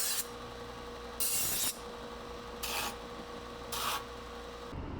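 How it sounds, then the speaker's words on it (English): A belt sander deburring and smoothing the sharp edges of steel slip-on rocker panels for an LBZ Duramax Silverado, heard as four bright rasping bursts of grinding against a steady motor hum, with no talking. "just give them a little once over, take off all the burrs and the sharp edges on the belt sander"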